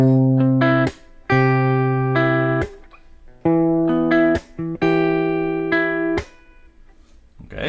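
Guitar playing the opening two measures of a song: plucked chord patterns in short phrases separated by brief pauses and string noise, close and clear.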